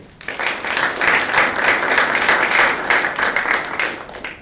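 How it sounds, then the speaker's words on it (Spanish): An audience at an architecture lecture breaks into applause, a dense, even burst of clapping lasting a few seconds before fading out. "Un aplauso."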